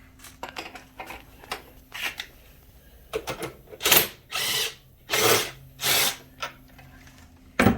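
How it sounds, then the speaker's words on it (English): Impact driver run in several short, loud bursts while fastening the front axle bolt on an MB200/Hurricane minibike, with brief clicks and handling noises between the ratcheting whirs. "Let me get my impact driver here."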